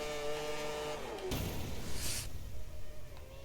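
A racing car engine in the F1 2013 video game holds a steady harmonic whine, then drops sharply into a noisy rumble with a brief burst of high hiss, fading toward the end.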